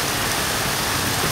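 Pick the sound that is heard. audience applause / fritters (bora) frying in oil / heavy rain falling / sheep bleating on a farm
heavy rain falling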